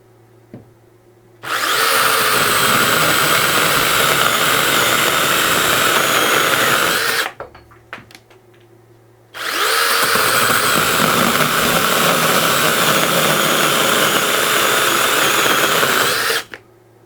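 A battery-powered 6-inch mini chainsaw whines loudly in two sustained bursts of several seconds each, separated by a short pause, close up.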